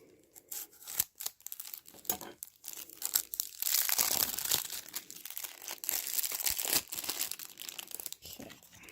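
Cellophane wrapper being peeled and torn off a boxed tarot deck, producing close, irregular crinkling and crackling bursts that build into a denser rustle in the middle, with no voices.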